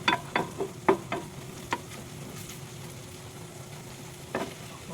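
Ulam frying in a pan on a rainy day, with a steady low sizzle and several sharp clattering stirs and scrapes near the start, then quieter frying with one more stir near the end.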